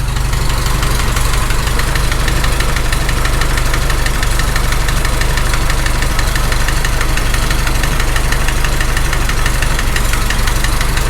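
A loud, close Farmall tractor engine idles with a steady rapid knocking running through its rumble, continuous and unchanging, with no voices.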